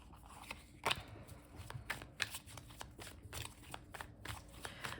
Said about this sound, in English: we're just going to shuffle a bunch of times here